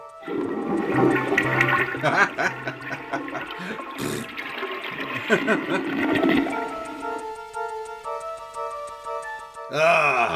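A toilet flush in the video game Snatcher rushes and gurgles for several seconds, followed by ticking and bright synthesized tones as it fades, with no voices over it.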